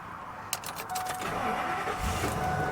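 A 2000 Ford Excursion XLT with a V10 engine cranks briefly and fires up, settling into a steady, fairly loud idle close by, with a faint sharp click just before the start.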